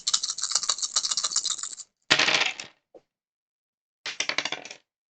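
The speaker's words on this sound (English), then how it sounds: "Just toss a bunch of dice on the table." A handful of dice is tossed onto a table in three bursts, with dense clattering rattles, a brief lone tick, then a final scatter, all close and without talking.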